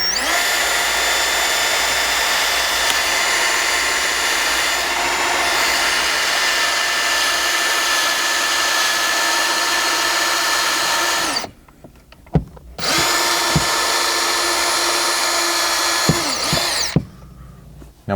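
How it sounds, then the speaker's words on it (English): Close, loud power drill boring a hole through a Ford Bronco dashboard, a steady high whine for about eleven seconds, a brief pause, then another sustained run before cutting off. "making sure you're not going to contact any wiring as you drill through"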